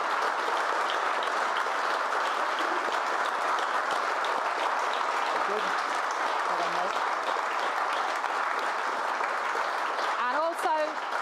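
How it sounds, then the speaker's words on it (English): Sustained applause from the audience at a Brentford FC fans' forum held in a room, a steady dense wash of clapping lasting throughout, with some faint voices mixed underneath. "A huge round of applause to Phil Giles, to John Varney, and to Thomas Frank as well."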